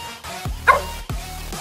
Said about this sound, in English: Oh, he's barking.